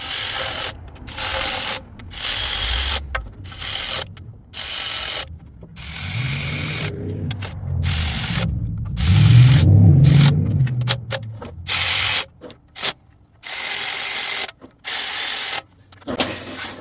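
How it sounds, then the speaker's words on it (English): Ratchet wrench clicking in repeated bursts while tightening bolts during a transmission swap on a 1973 International Harvester Travelall, close and fairly loud with brief pauses between strokes. "Do not want to be torquing the crap out of those."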